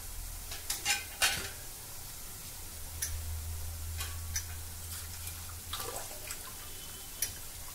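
A spoon stirs a dish in a pan after turmeric powder is added, giving soft scraping and irregular clicks with a few sharper knocks over a faint sizzle.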